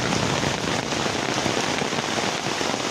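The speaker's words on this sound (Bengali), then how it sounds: "খুব ভালো লাগতেছে এই বৃষ্টিটা দেখতে" Heavy rain pours steadily onto surfaces during a Baishakh-season downpour, a dense, even patter close by with no pauses and no voices.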